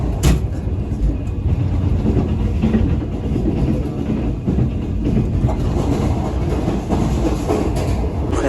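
Shalimar Express train rolling along the rails past Farrukhabad, a steady loud rumble with rhythmic clatter of wheels over track joints, continuous throughout with no talk.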